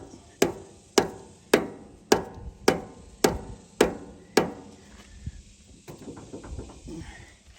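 Steady hammer blows drive a resealed swing cylinder back into a 1979 John Deere 300B backhoe: about nine sharp metallic strikes at an even pace, close and loud, then quieter scattered knocks and shop noise.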